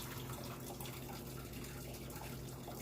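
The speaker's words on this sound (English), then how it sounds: "I'm gonna put some cold water in here." Cold water runs from a kitchen tap into a tea kettle as it is refilled, a steady, soft hiss of flowing water with no pauses.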